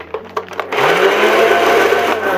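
Nerf minigun dry firing: a few quick clicks and whirs, then the motor spins up into a loud, steady, close buzzing whine that holds to the end.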